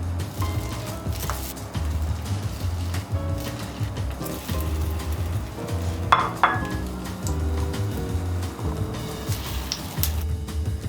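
French toast frying in olive oil in a pan, a steady close sizzle with occasional light clinks of utensils against the pan throughout.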